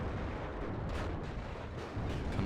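Artillery bombardment in the WARNO strategy video game: a dense, continuous rumble of overlapping distant blasts and booming impacts, with a few sharper explosions standing out, loud throughout.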